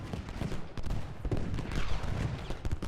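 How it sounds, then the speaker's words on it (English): Musket volleys in the Ultimate General Gettysburg video game, dense overlapping distant gunfire crackling steadily throughout, with no single shot standing out. "I can start firing down on Baxter"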